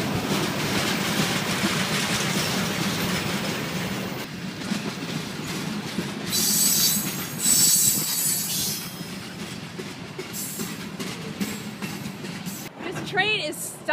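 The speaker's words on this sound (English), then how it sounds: "Train is stopping" A freight train rumbles past, wheels clattering and squealing as it gradually slows, with people talking nearby.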